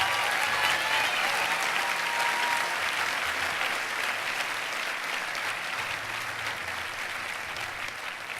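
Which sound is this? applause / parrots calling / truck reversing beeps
applause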